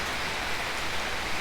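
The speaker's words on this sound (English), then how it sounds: "Another rainy day in rainy Thailand." Steady rain falls in rural Thailand during the wet season, a dense, even hiss of drops on surfaces that holds without pause and with no voices.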